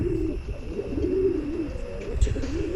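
Fancy pigeons cooing in a steady low murmur that runs almost without a break, with a soft thump near the end and no one talking.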